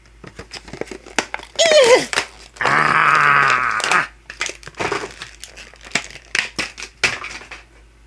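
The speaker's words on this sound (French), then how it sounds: "Je vais un peu déchirer ça. Donc là, le carton me résiste." A cardboard box is torn open for unboxing, with bursts of ripping and crinkling between short scrapes and taps, close by, with a voice briefly heard among the tearing.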